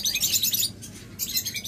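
Lovebirds at a bird seller's shop chirp in dense, high twittering bursts, with a short lull in the middle before the chatter resumes, over a low background hum.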